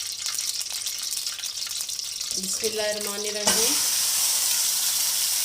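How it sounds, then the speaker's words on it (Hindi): Mutton pieces frying in hot oil for a Shinwari karahi, a steady broadband sizzle that surges louder partway through as the meat hits the pan, with brief clanks of a utensil and a short spoken phrase. "ऑयल गर्म होगा तो सबसे पहले हम मटन फ्राई करेंगे"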